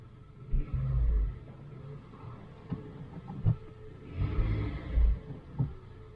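A car after clutch repair drives slowly, its engine rumbling and revving in short bursts as the driver shifts through reverse and forward gears, with dull thumps between.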